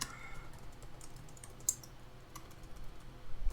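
Rapid, light keystrokes on a computer keyboard as code is typed, a quiet, steady patter of clicks with a few sharper taps, close and alone with no talking.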